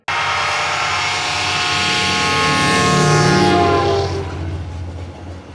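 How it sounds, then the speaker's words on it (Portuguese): A train approaches and passes in an AMV edit, its horn blaring loud and sustained over rumbling carriages, swelling in volume before fading slightly near the end. "tem um trem literalmente passando e vindo, aumentando o volume"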